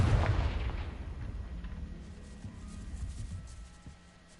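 Confringo spell blast in the Hogwarts Legacy video game: a single deep explosive boom at the start that rolls off into a long, fading rumble.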